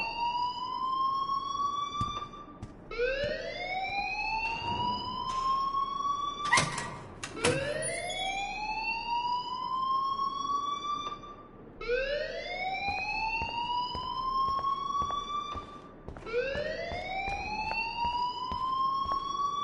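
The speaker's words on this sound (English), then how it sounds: "please turn off that alarm since that's your job" A video game alarm whoops in rising electronic siren sweeps, repeating about every two and a half seconds at a steady loud level with no talking.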